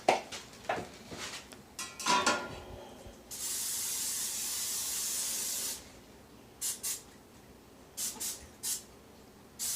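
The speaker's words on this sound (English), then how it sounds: "The canola spray with the black lid." Canola oil spray with a black lid misted into a baking pan for toffee squares: a steady two-second hiss of spray in a home kitchen, surrounded by shorter spurts and clinks of pans.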